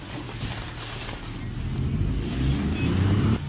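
A car engine running nearby, a steady low rumble that swells slightly as it revs and arrives, then cuts off abruptly near the end.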